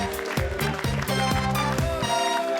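A French TV game show studio audience applauds a record score, a dense, steady wash of clapping that runs under bright music with pulsing beats throughout.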